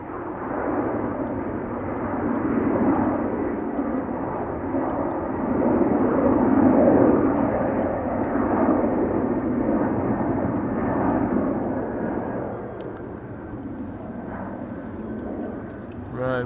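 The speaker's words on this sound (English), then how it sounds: "KLM A330 just took off to Mumbai in India." A KLM Airbus A330 taking off at Amsterdam Schiphol, bound for Mumbai, gives a broad, steady jet roar that swells in the middle and eases off toward the end. The engine noise is fairly loud and continuous, with no clear talk over it.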